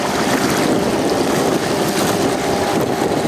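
Sea waves slap and wash against a small boat out on rough, stormy water, a loud continuous roar of surf and wind with no pauses.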